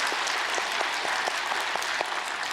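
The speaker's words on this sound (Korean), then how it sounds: "큰 박수로 영광을" Steady, full applause from a church congregation during a sermon, dense clapping with a slightly pulsing rhythm, close and loud with no talk over it.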